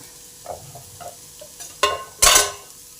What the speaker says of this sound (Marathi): हिंग आणि आता कांदा हे आपण परतून घेऊ